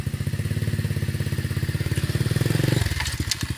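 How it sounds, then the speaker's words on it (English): An SSR 125cc pit bike engine runs with a steady, close mechanical putter, pitch and load shifting partway through as it moves from first to second gear, then settling. "how you go from first to second gear by pulling in the clutch and shifting up with your left foot"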